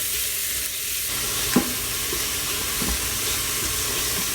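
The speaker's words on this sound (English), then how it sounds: "So we've got our onions and garlic going in here." Onions and garlic sauté in an Instant Pot, a steady close sizzling hiss with a few faint stirring knocks and no voice.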